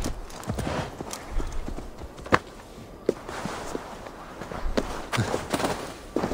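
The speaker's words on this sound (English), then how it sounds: "Oh, I got a horse." Horse hooves clip-clopping at a steady trot in Assassin's Creed Valhalla, with repeated close, loud hoof strikes over an outdoor game ambience and no talk.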